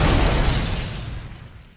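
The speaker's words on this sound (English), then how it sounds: "Explosions at a wedding always, it seems like it would make for a big day." Cartoon explosion at a wedding in Family Guy: a loud booming blast with deep rumble that decays steadily over about two seconds, heard alone.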